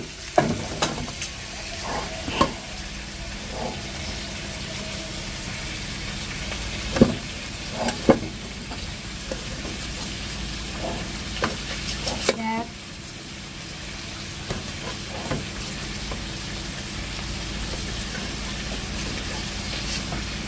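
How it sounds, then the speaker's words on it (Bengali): Something frying until reddish-brown for an egg curry, a steady low sizzle running throughout with occasional clinks and stirring knocks, and a voice talking intermittently nearby. "এটাকে লাল লাল করে ভেজে নেব"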